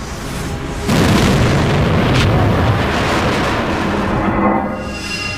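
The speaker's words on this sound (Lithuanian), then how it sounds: "kol pasiekusi kritinę masę, žvaigždė sprogsta" A supernova sound effect for an exploding star: a loud, sudden, deep booming blast that swells into a long, dense rumbling roar and then slowly fades.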